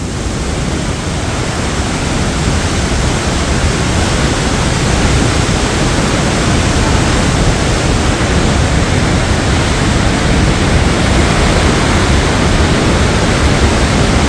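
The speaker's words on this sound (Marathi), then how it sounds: "उजनी धरणाचा आपण आवाज ऐकतोय डाव्या कालव्यातून हे पाणी सोडलं आहे" Water released from the Ujani dam into the left canal rushes in a loud, steady roar of white-water turbulence, unbroken and close, with no voices.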